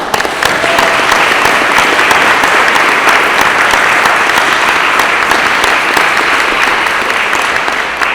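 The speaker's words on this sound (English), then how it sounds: "I think that deserves a round of applause." A board of education meeting audience applauds in a sustained round of clapping, loud and close, steady for several seconds without pause, with no speech over it.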